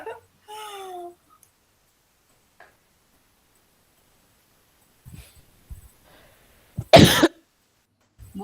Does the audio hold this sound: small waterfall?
no